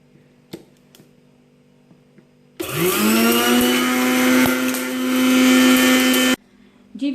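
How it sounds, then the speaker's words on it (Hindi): A blender grinding garam masala spices roars to life loudly, grinding steadily for about four seconds before cutting off abruptly, with a few soft clicks before and after. "दोबारा से ब्लेंडर में डालूंगी और डाल के इसको ऐड करके 1 मरतबा फिर से मशीन को चला दूंगी"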